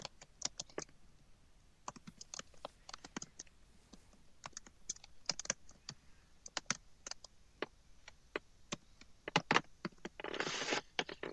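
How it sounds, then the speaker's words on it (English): Fingers type on a computer keyboard in quick, uneven bursts of close key clicks with short pauses, ending in a denser flurry; no voices. "you can go ahead and type your return address in"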